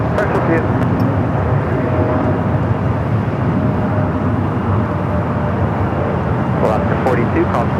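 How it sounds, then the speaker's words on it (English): A jet airliner rolls for takeoff on runway 24 left at LAX, its engine roar broad, loud and constant throughout. There is no break in the noise. "Alright, off she goes, now rolling down at 2-4 left."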